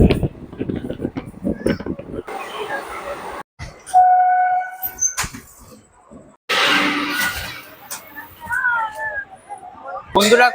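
A long-distance passenger train on the Kolkata to Haridwar route rumbles and clatters along, with a horn sounding and voices talking intermittently over the rolling noise.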